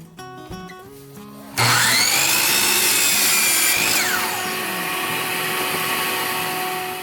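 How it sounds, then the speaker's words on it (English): A miter saw spins up with a loud whine and bites through a small wooden block, the cut lasting a few seconds before the blade winds down; a quieter hum precedes it. "miter saw."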